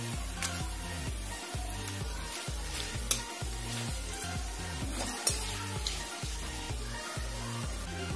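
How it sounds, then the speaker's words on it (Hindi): Bay leaves, cumin seeds and dried red chillies frying in leftover oil for a homemade chicken biryani, a steady close sizzle with occasional stirring scrapes and small pops, no voices. "अब इस बचे हुए तेल में 2 तेज पत्ता डालेंगे, 1 चम्मच जीरा, 2 सूखी लाल मिर्च"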